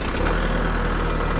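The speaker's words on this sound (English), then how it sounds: "the first thing that we're going to do is start the tractor up" A tractor engine, fitted with a front loader and a front-mount rotary mower, runs at a steady low throbbing idle, loud and close, with no talk.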